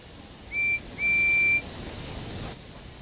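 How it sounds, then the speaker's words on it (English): A guard's whistle in a Thomas and Friends video game sounds in two short clear blasts, the second longer, over a quiet hiss. "the guard's whistle blew, and the two engines set off"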